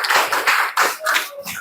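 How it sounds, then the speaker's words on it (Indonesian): Classroom applause for a student, a burst of many hands clapping in a dense, steady patter that carries on for under two seconds without a break. "Tepuk tangan untuk Raka."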